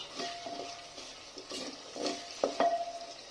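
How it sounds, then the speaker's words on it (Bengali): Soft sizzling of tomatoes and onions frying in a pan with intermittent stirring and a couple of light clinks of a utensil against the pot, fairly quiet and without speech. "টমেটোটা ভালো করে ভাজা ভাজা হবে, তারপরে পেঁয়াজের সাথে একটু নরম হয়ে যাবে"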